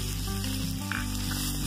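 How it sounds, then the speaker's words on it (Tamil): Onions sautéing in a pan for chicken sukka, a continuous close sizzle with a steady hum underneath, and no talking. "இப்ப வெங்காயத்தை சேர்த்து நல்லா வதக்கிக்கலாம்"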